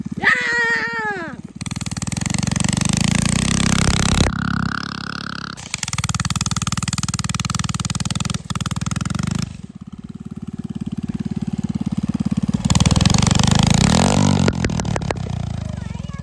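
A mini bike's small engine revs hard in repeated bursts while drifting across snow, loud and close, with short drops between runs.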